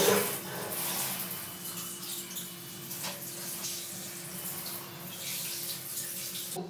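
Water runs steadily from a shower while hair is being wetted, a continuous splashing hiss with a faint steady hum beneath and no talking.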